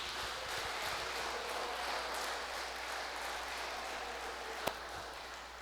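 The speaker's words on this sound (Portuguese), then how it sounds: "Dê um forte aplauso a Ele." Applause from a church congregation at a worship service: sustained, broad clapping from a crowd, steady and somewhat distant, with one sharper knock near the end.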